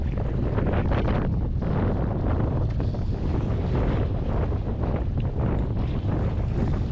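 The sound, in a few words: strong wind at a boat ramp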